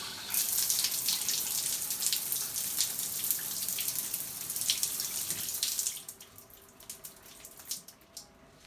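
Running water from a tap splashes steadily onto an electric spin scrubber brush to wet it, a close, bright rush for about six seconds that then gives way to scattered drips and quieter trickling.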